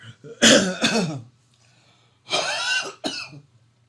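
Two bursts of coughing, each a couple of harsh close coughs, separated by a quiet pause with low background hum.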